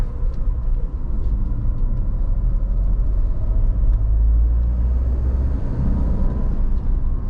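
Engine of a Mahindra Thar Roxx SUV just after shifting into third gear on the Kaladhungi–Ramnagar highway near Corbett: a steady, loud low rumble with road noise, swelling slightly midway, no talk.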